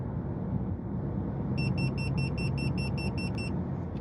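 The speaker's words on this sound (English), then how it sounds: "it will beep if you go over the speed you have it set to" A car head-up display's speed alarm, set to 60 km/h, gives a rapid series of high, thin electronic beeps, about ten in quick succession, over a steady rumble of road and engine noise.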